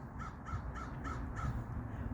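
A flock of about twenty crows cawing outdoors, a steady run of five or six evenly spaced caws that sound fairly faint and distant over a rough background rumble.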